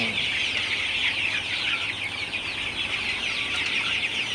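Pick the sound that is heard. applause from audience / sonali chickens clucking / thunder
sonali chickens clucking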